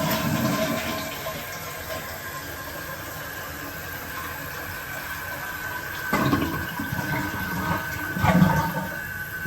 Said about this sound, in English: let's go ahead and give it a flush